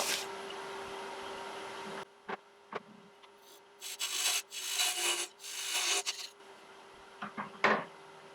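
A tin parting tool cuts about a quarter inch into a small wooden snowman spinning on a lathe, giving several rough scraping bursts between quieter gaps and a faint steady motor hum underneath.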